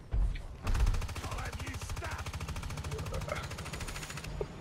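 Rapid automatic gunfire in the video game Evolve, a dense steady rattle of shots that runs almost without a break, loud and close, with the game's other sounds mixed in.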